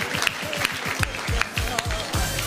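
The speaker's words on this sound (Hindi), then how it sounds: "ताली।" Audience clapping at a live Hindi comedy show, a steady wash of applause that runs beneath a voice talking loudly over it.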